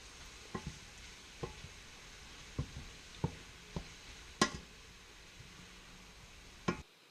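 Mushrooms and tomatoes being stirred in a pan over low heat, a quiet faint sizzle under about eight sharp, spaced clicks and knocks of a utensil against the pan.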